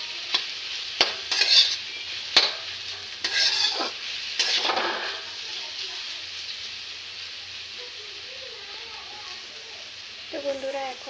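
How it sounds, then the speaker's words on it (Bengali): Spices and cumin powder stirred in a cooking pan for a taro stem and leafy greens dish, several sharp scraping strokes of a spoon against the pan over a soft sizzle, then quieter frying with brief talk near the end. "জিরে গুঁড়ো দিয়ে এখন আমি ভালো মতো নাড়াচাড়া করে নেব"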